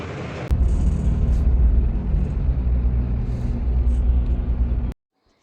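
A steady, loud low rumble of a bus engine and road noise, heard from on board, runs unbroken for several seconds before cutting off abruptly.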